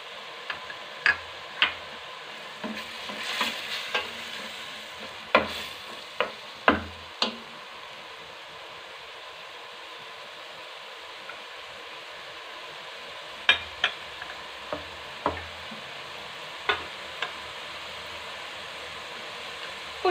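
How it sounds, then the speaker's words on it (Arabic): Diced sweet red pepper frying in a pan for a tomato-sauce pasta dish, a steady soft sizzle with scattered clicks and scrapes as a utensil stirs, fairly quiet and close, no talking. "ونضيف الفلفله الحمراء الحلوه اللي قطعناها مربعات"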